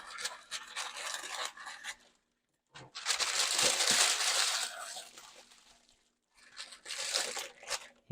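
Paper is crumpled in a kitchen, in three loud, close rustling and crinkling bursts separated by short silences, with no talk.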